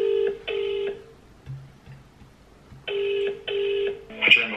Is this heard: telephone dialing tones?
yes